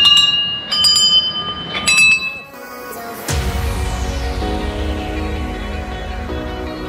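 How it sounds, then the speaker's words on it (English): Bells ring out at about six in the morning in Kagbeni in Nepal's Mustang Valley: several bright clangs early on, then a louder deep strike whose rich tone rings on and slowly fades. "Every bell has a different sound."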